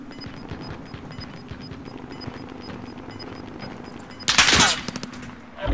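Rapid automatic gunfire in a Call of Duty Rebirth Island match, steady bursts of distant shots throughout, ending with a loud, close burst near the end.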